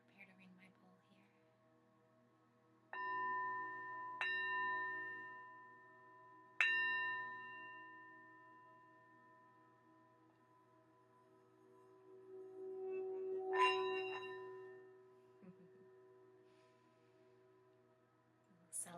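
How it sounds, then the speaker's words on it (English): A singing bowl rings out in a quiet meditation setting, struck about four times with clear sustained tones that slowly fade, the last strike brighter and swelling, with soft background breathing or murmurs. "And I'm going to prepare to ring my bowl here."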